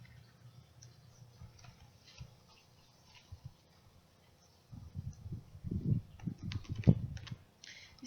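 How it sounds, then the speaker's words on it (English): Slippery tarot cards are shuffled by hand close up, soft riffling and tapping that grows louder and denser in the second half after quiet handling. "These cards are really hard to shuffle."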